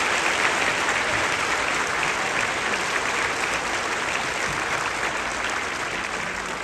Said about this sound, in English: Let's give one more round of applause to Mr.